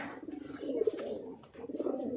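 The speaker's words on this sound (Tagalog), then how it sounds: "magpapalipad tayo ng mga ibon natin dahil gusto nilang magwala" Pigeons cooing in a loft before release for a racing derby, soft rolling coos in two bursts close by, with a brief pause between them.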